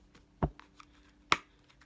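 Tarot cards are handled and shuffled in a quiet room, two sharp close riffle-like snaps with faint papery taps between them.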